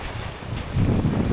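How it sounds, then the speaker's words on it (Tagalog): Strong typhoon wind buffets the microphone outdoors, a loud rushing roar that swells partway through the brief moment. "Grabe ang lakas. Lakas ang hangin"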